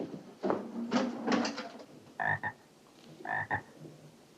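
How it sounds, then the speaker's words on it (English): A bullfrog croaks in a classroom, giving several deep, rough croaks in short bursts followed by a pair of higher-pitched calls, fairly close and clear with no voices over it. "Tabitha, did you take the bullfrog?"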